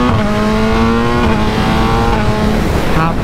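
TW 470cc racing motorcycle engine revving hard on a highway, a loud close sustained roar with steady pitch that climbs near the end.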